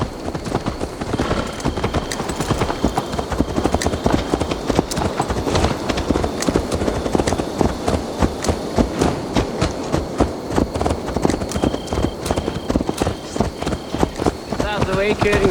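A horse ridden in Assassin's Creed Valhalla clip-clops in a steady, continuous rhythm of loud hoofbeats, with voices and game ambience layered over the hooves throughout.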